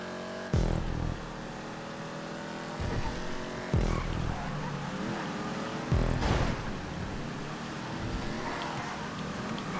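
A custom Dukes car races in GTA 5, its engine droning loudly and steadily, with several abrupt gear shifts and surges in revs cutting through the constant roar.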